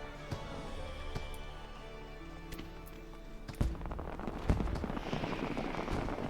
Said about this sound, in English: And the fireworks are still going here.